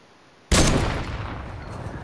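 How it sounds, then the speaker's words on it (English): A single sniper rifle shot in Fortnite cracks out sharply and loudly, then trails into a long, fading rumble with nothing else heard. "This is why I love this sniper, dude."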